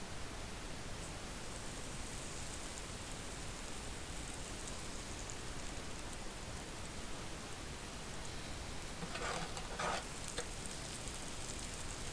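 Food fries in a pan at a roof-tent campsite, a dense, even hiss like steady rain that stays unbroken throughout, with a few faint clatters near the end.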